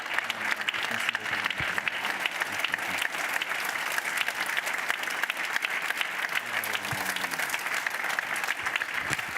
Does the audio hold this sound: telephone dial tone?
no